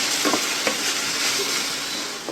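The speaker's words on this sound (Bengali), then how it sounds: "আর রসুন আর পেঁয়াজটা একটু ভালো করে ভেজে নিতে হবে, একটু লাল লাল করে" Garlic and onion frying in oil in a pan for a Bengali spinach-and-prawn dish, giving a steady, close, dense sizzle with light stirring scrapes throughout and no voices.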